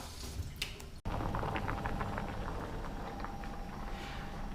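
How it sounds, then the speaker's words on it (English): Potatoes boil in a pot of water, a steady bubbling and gurgling simmer with a brief cut partway through, close and moderately quiet with no talking. "we've boiled the potatoes"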